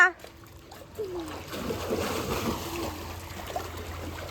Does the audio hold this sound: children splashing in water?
yes